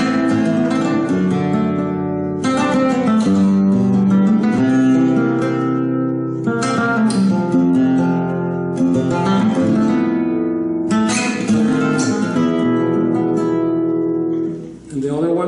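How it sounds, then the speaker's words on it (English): A flamenco guitar plays an Andalusian cadence with auxiliary dominant chords. About six strummed chords ring out close and clear, each struck with a bright attack and left to sustain before the next change. "Auxiliary dominance sound like this."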